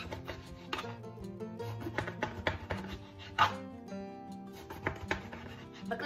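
A knife chops through eggplant on a board in quick, irregular close cuts, a dog barking and whimpering in the background.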